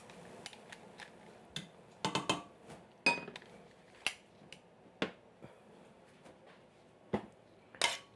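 Tongs and a bowl handled while serving one-pot pasta in a home kitchen: a run of sharp metallic clicks, taps and clinks, some clustered in quick bursts, close and fairly quiet with no talk.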